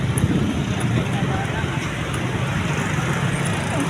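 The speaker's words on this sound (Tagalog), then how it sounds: "Ay, kabayo." Horse hooves clip-clop on a city street amid steady traffic and car noise, the hoofbeats soft and partly buried in the road din. People talk nearby.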